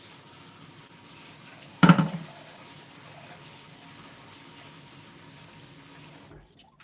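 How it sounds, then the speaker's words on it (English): Water runs from a kitchen tap while farro is rinsed, a sudden splashing gush followed by a steady, moderately quiet stream that stops abruptly at the end. "let me rinse this farro"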